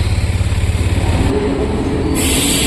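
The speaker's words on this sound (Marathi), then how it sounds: "तर मित्रांनो ट्रेन आलेली आहे नेत्रावती एक्सप्रेस" The Netravati Express pulls into Roha railway station with a loud, close rumble and a rhythmic clatter of wheels that gives way to a steadier, smoother roar as the cars roll past.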